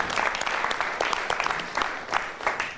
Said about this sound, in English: Everybody give Linda a quick round of applause.